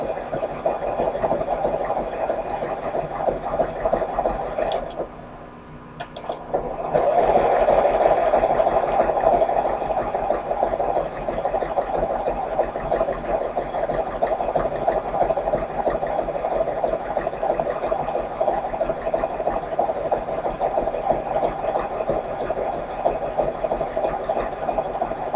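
A sewing machine runs a zigzag stitch on fabric meant to hold up in the washing machine, with a steady, fast mechanical whirr held close and loud, a brief pause near the start, then continuous stitching to the end.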